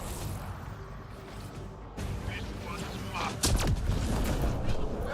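Continuous gunfire and heavy blasts in the video game Mass Effect: Andromeda, dense and loud, with a strong explosion midway, while a person talks over the combat.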